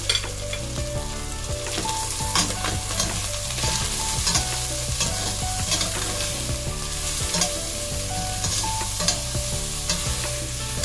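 Chicken cooking in a pot with onions, garlic, ginger and salt for an Ilocano chicken soup with patola and sotanghon makes a loud, continuous sizzle, with busy stirring scrapes and clanks throughout and no voices.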